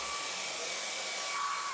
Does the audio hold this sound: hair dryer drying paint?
yes